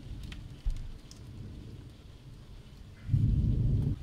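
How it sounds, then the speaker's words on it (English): Heavy rain mixed with hail falling outdoors by a lake, a steady dense patter that swells louder near the end, close and continuous, with no voices. "I think it's hailing now."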